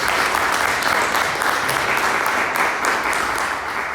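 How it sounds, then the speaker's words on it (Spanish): Applause from a church congregation, a loud, dense, continuous burst of clapping that holds steady for several seconds without speech. "Denle un aplauso al Señor"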